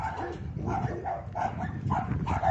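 Several dogs bark repeatedly in a small town in Kansas, rhythmic bursts of barking at moderate distance over steady outdoor background noise.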